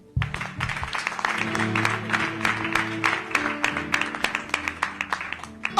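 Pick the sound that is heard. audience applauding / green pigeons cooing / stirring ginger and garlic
audience applauding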